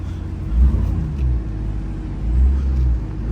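Ram TRX Hellcat pickup truck on the move, with a deep, steady engine rumble inside the cab that swells twice in gentle surges, no speech over it.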